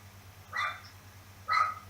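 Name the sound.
dog barking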